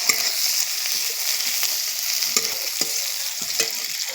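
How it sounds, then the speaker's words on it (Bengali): Onions sizzle and fry in a wok while being stirred, a constant bright crackle punctuated by several scraping clicks of a utensil against the pan, close and fairly loud with no talking. "তাই আমি একটু কড়াইতে নেড়ে দিচ্ছি পেঁয়াজটা"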